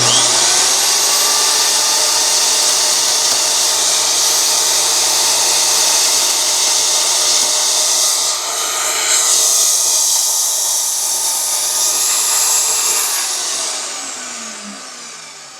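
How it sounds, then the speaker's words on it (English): A power tool cuts metal pins for knife handle scales in a bladesmithing shop, a loud steady high whine that runs without a break for about thirteen seconds before winding down. "So let's cut a couple pins real quick."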